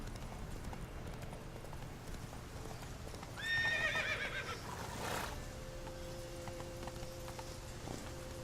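Roach, a horse in The Witcher 3 video game, gallops with steady rhythmic hoofbeats, and a loud whinny breaks out midway over a constant ambient background.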